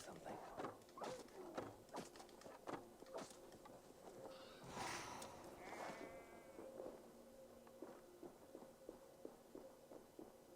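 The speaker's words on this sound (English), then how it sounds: "That sounds like a sheep." Sheep bleating in Assassin's Creed Valhalla, a few short wavering cries midway through, set amid open-world game ambience with footsteps and scattered clicks, fairly quiet.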